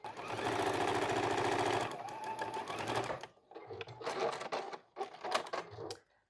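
A sewing machine stitches the mitered corners of self-binding cloth napkins in a steady, fast mechanical whir that runs for a couple of seconds, then gives way to short, intermittent bursts of stitching.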